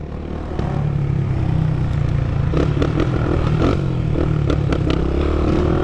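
A remapped 2024 Yamaha FZ 25 motorcycle idles loudly close by on a street, its steady engine drone rising into revs with scattered clattering and scraping sounds over the top.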